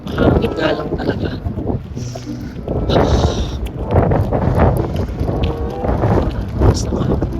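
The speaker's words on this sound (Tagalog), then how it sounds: "Mahangin nga lang talaga." Strong wind gusts batter the microphone outdoors at Smoky Lake, Alberta, producing loud, rumbling low buffeting that rises and falls throughout while a person talks close by.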